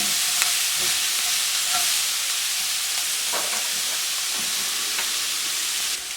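Vegetables sauteing in a flash of hot oil give a steady, bright sizzle that holds level throughout, with a few faint stirring scrapes and no talking.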